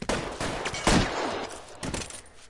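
Gunfire in the L.A. Noire video game during a shootout at a cafe, a rapid burst of loud, close shots with sharp cracks and echoing tails across the whole stretch.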